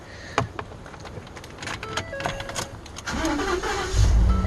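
A 12th generation Ford F-150 pickup after a repair: faint key and cabin clicks, a brief starter crank, then the engine catches and settles into a low, steady idle, close and alone.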